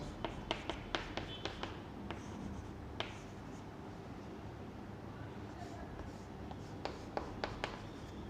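Marker or chalk writing on a board while a chemistry teacher draws an enol structure for keto-enol tautomerism, heard as quick clusters of light taps and strokes in a quiet room, with pauses between bursts.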